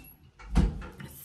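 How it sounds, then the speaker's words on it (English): An indoor door is shut with a single close thud that has a brief rattle and a short tail, after a quieter shuffle. "Let me shut this door."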